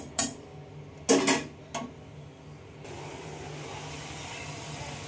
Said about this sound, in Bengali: দেখো এটা কিন্তু এইভাবেই বারবার একটু নেড়ে চেড়ে দিতে হবে